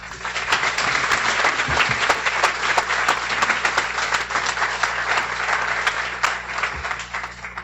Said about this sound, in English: So a warm round of applause to you all.